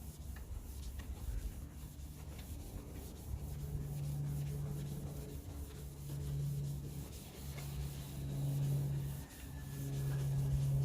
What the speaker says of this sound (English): Basically what we're doing is scrubbing the oxidation off.